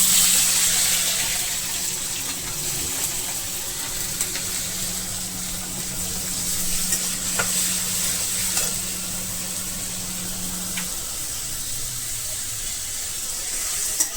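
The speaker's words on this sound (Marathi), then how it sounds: "कांदे आपल्याला फ्राय करून घ्यायचे आहेत. तेलामध्ये तेल गरम झालेलं आहे." Onions frying in hot oil, a loud, dense continuous sizzle close by, with a steady low hum in the background and an occasional scrape of stirring, no voices.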